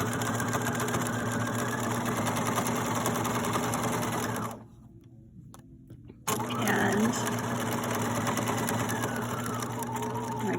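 A sewing machine stitches fabric for a popcorn bag, running as a steady, close mechanical hum and rattle. It stops briefly partway through, then starts again at the same pace.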